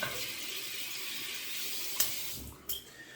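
Water runs steadily from a bathroom tap to wet a shaving brush, a close, continuous hiss of flow with a brief splash or knock near the end.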